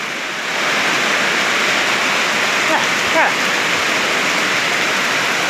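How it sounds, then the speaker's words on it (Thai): Steady heavy rain pours down in a dense, continuous hiss at home, with a brief spoken word and faint voices partly under the downpour. "ฝนตกแล้วครับ"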